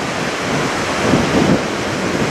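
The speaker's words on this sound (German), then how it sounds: "Aber auch der Wind ist wieder recht kräftig." Strong wind on a coastal trail near Mandal, Norway, roaring steadily and buffeting the microphone, with a surf-like rush and low rumble throughout, no speech.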